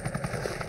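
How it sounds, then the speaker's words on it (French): A helicopter gives a brief, fairly loud whirring throb with a quick rhythmic beat of rotor pulses, heard alone. "L'hélicoptère."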